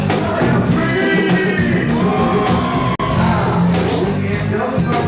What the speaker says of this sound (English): Now scream.